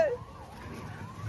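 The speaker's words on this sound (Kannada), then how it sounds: "ಆಂಬುಲೆನ್ಸ್ ಬಂತ." Ambulance siren wailing on a street, a steady rising and falling tone that is moderately distant and faint, with low traffic rumble underneath.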